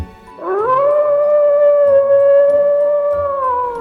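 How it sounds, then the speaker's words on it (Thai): A single long dog howl at night, steady and mournful, rising at the start and then holding one pitch for about three seconds, loud and close. "เสียงหมาหอนยามค่ำคืน"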